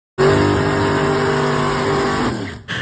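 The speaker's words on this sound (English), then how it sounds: "When you hear it fire up, you'll see why." A tube chassis drag racing car with a fiberglass front fires up and holds a loud, steady, harsh engine roar close by, then cuts off abruptly near the end.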